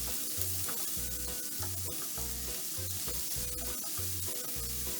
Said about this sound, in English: while the onion's cooking, the guanciale will continue to render its fat out